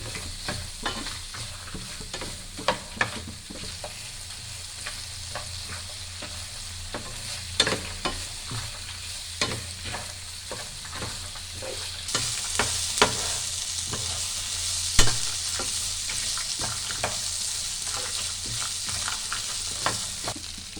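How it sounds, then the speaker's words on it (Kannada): Curry leaves, coriander and tomato frying in a pan for a quick breakfast chutney, a steady sizzle with repeated scraping and stirring knocks throughout, the hiss growing brighter in the second half; no talking. "ಇದರಲ್ಲೇ ಹಾಕೊಂಡ್ಬಿಟ್ಟು ಸ್ವಲ್ಪ ಹುರ್ಕೊತಾ ಇದ್ದೀನಿ ನೋಡಿ"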